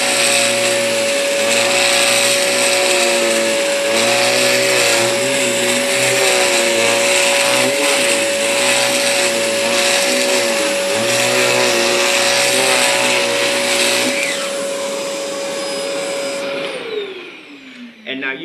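A ZeroG floating vacuum cleaner sucks flour off fabric with a loud, steady motor whine and airy roar close by, holding for about fifteen seconds before the pitch sinks as it powers down.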